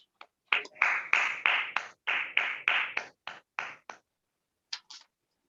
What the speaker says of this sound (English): Big round of applause for the Secretary Kamlesh Kumar.